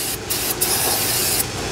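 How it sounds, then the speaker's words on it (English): Brake cleaner sprayed onto the brake rotor of a Mazda 6 in short aerosol hisses: a brief burst, a second quick one, then a longer sustained spray, close and loud with no talk. "some brake cleaner"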